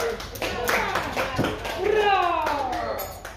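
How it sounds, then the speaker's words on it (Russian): A child claps hands a few times at a family 65th birthday party, brief light claps under adult chatter and a voice. "Я радуюсь, что у меня ребенок в ладоши хлопает."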